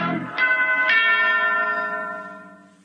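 A bright radio-jingle bell chime for a dairy brand rings twice in quick succession, each strike leaving a long shimmering ring that fades slowly, clear and close with no talk over it.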